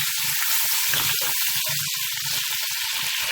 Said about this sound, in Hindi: लहसुन, साथ ही हम सफ़ेद ज़ीरा, इन दोनों को अच्छी तरह फ्राई करना है।